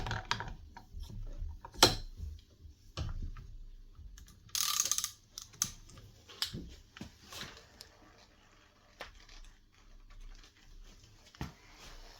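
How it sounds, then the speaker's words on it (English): A ratchet turning a T10 Torx bit tries to loosen the chuck of a Makita DHP484 combi drill held in a vise, giving scattered close clicks and metallic ticks with quiet pauses between. "use your ratchet then with the T10 Torx to actually take the chuck off the spindle"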